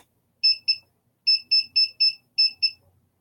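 A Power Sensor/Para Box detector sounds a false alarm: eight sharp, high electronic beeps in short clusters of two, crisp and close against an otherwise quiet room.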